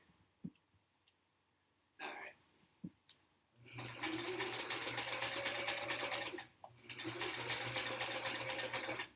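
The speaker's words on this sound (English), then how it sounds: "Alright, a little back tacking." A domestic sewing machine back tacks a quilt block seam. A few soft clicks come first, then a close, steady rapid stitching hum that pauses briefly and resumes, with no talk over it.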